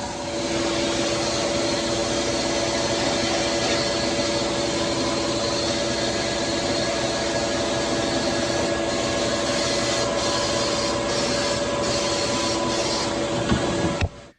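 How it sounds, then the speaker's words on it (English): A sandblaster works over the underside of a car fender while stripping rust and undercoat, producing a loud, unbroken rushing hiss with a steady droning tone that holds for the full stretch before cutting off at the end. "Gonna make an effort at sandblasting this. Get this whole underside of this fender."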